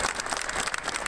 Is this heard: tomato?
no